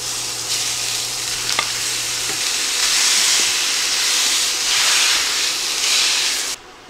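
Ground beef, 1.5 pounds of it, browning in a pan for a crockpot potato soup, gives a loud, steady sizzle and hiss that runs nearly unbroken and cuts off near the end.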